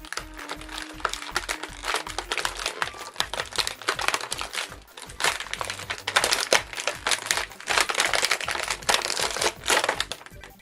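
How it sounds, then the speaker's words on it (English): Vector, a Jakks Pacific Sonic the Hedgehog action figure, being pulled from plastic packaging after elastic bands are cut, giving dense crinkling and crackling of plastic with scattered sharp clicks and taps, close and continuous. "after cutting the elastic bands off, Vector will slide right out."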